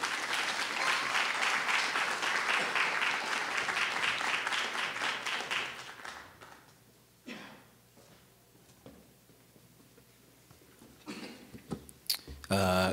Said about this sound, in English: Join with me in giving Mr. Gray Contar a round of applause.